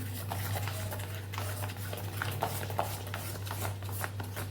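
Semolina stirred by hand into a batter for rotli dhokla, a steamed snack made from leftover flatbread; soft, irregular scraping strokes sit over a steady low kitchen hum, close and fairly quiet.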